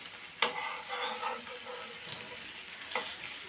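An egg roll fries steadily in a pan with a continuous near sizzle, and a couple of brief clatters from turning or lifting break through the hiss.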